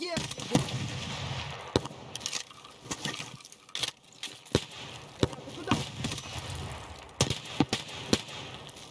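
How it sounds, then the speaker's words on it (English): Gunfire from the video game Escape From Tarkov cracks out in sharp, irregular shots and short bursts, some near and some farther off, over low background game ambience. "Who was shooting at me?"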